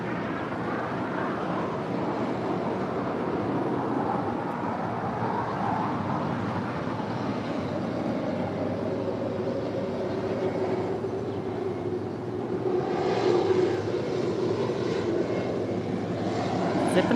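An airliner roars at LAX, a steady broadband jet rumble holding for the whole stretch and swelling slightly near the end, moderately loud and continuous.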